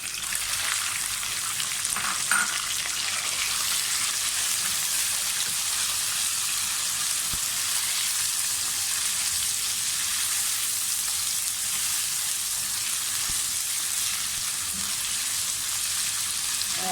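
Chicken pieces frying in oil with garlic in a pan, a steady dense sizzle throughout with a few faint clinks.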